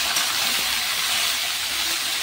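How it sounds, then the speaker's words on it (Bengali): Chopped ash gourd fries in a hot pan, giving a loud, steady, even sizzling hiss that fills the whole moment with no voices. "এবারে দিয়ে দিচ্ছি কেটে রাখা চাল কুমড়ো দিয়ে দিলাম। তো এবার কিন্তু ভালো করে নাড়াচাড়া করে নিচ্ছি।"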